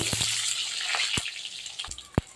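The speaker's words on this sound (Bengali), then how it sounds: "আলুটাকে তেলে দিয়ে দিয়েছি, আলুটা একটু ভাজা করব।" Diced potatoes fry in hot oil in a wok, a steady close sizzling hiss with a few sharp pops and crackles scattered through it, no voices over it.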